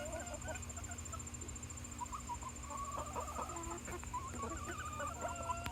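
Soft clucking and murmuring chicken calls scattered over a steady low hum, fairly quiet and close by.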